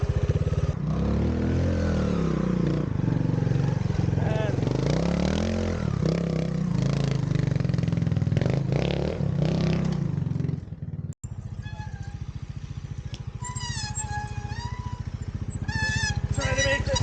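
A 2022 Montesa Cota 301RR trials motorcycle revs and labors as it climbs a hill and fights for traction through a turn, engine note rising and falling up close with clattering and scraping, a rider talking over it, then a brief cut to steadier idling.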